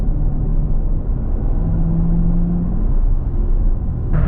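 A 650 hp 2017 Corvette Z06 with manual transmission being driven, heard from inside as a steady, deep engine rumble and road drone that holds fairly loud and even throughout.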